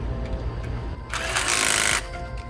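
A Bosch GDS250-LI cordless impact wrench tightens a nut in one loud, rapid hammering burst of about a second, preceded and followed by quieter handling noise.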